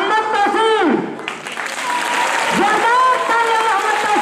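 Audience clapping at a prize distribution ceremony for a GK competition, sustained and fairly loud throughout, with an announcer's amplified voice speaking over it.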